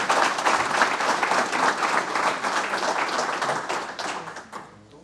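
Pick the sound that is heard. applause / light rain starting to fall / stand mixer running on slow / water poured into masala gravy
applause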